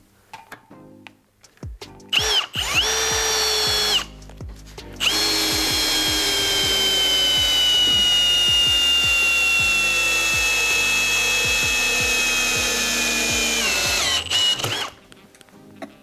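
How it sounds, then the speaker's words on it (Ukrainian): A Milwaukee M18 FPD2 cordless drill-driver in first gear drives a long screw into wood, a loud close motor whine with a short start, a pause, then a sustained run of about ten seconds before stopping. "І ми його зараз закрутимо ось сюди в турець."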